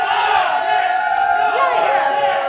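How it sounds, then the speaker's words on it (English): A live crowd at a wrestling event cheers and roars loudly and continuously, with whoops rising over a steady wall of noise and no clear claps standing out. "clap your hands for the man himself, Freedom Wallace."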